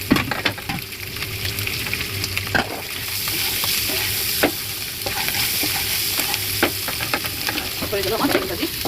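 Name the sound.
egg frying with spices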